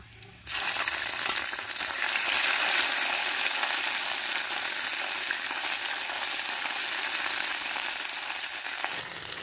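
Ginger paste and spices, including panch phoron, dried red chili and bay leaf, sizzle in hot oil after a sudden start, a loud continuous frying hiss with faint stirring underneath, no voices.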